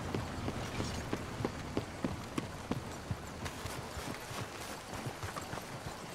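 Horse hooves clip-clop at a steady walking rhythm in the video game Red Dead Redemption 2, a series of distinct, fairly quiet thuds over soft background ambience, with no talking.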